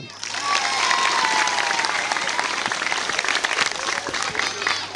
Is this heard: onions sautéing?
no